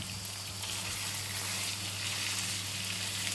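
Minced beef with a little fat fries in a pan, a loud, steady close sizzle and crackle continuing without a break and with no voices.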